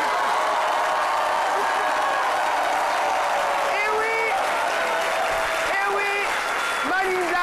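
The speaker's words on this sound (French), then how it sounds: "d'applaudir très très fort cette étoile juste en face de moi" Audience applause for a guest on a French midday TV show, a dense steady wash of clapping lasting throughout, with music or tonal sounds rising over it near the end.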